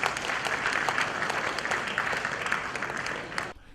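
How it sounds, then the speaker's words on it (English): Full audience applause at an awards ceremony for the honorees, a dense, steady roar of many hands clapping that holds evenly, then cuts off abruptly near the end. "Please give them a round of applause."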